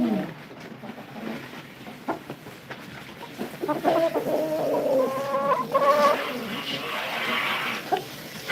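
Chickens in a backyard flock cluck and chatter nearby, the calls growing busier and more overlapping midway, with soft handling noises between them and no talk.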